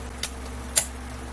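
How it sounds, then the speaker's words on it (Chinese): The turntable motor of a TAMPO CRV 709A language learner runs unevenly, producing a low, faint steady hum with two small sharp ticks, nothing else audible. "那这一颗马达目前跑起来感觉没有那么顺"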